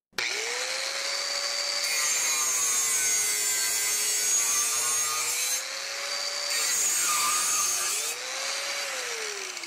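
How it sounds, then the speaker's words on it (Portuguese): Wesco WS4740 4.5-inch angle grinder cutting, a loud continuous whine with a steady pitch that sags and shifts as the tool is forced into the cut, briefly easing near the end before bearing down again. "Notem no vídeo que o barulho da esmerilhadeira alterou, isso significa que está forçando a ferramenta"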